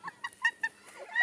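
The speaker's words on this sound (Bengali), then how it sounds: "মলিউকান কাকাতুয়া।" A Moluccan cockatoo gives a quick series of four short, honking squawks, then a rising, harsher call at the end, fairly close and clear.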